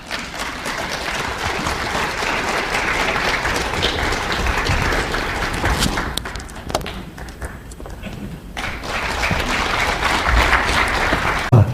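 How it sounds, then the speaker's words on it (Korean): Audience at a history lecture clapping to welcome the speaker, a dense sustained round of applause that thins briefly in the middle, then swells again, fairly loud and close. "우리 황순종 선생님을 박수로 맞아주시기 바랍니다."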